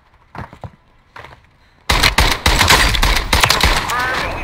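Bursts of video game gunfire while shooting an enemy, loud rapid shots after a quieter start with faint talk, the firing dense and continuous through the second half.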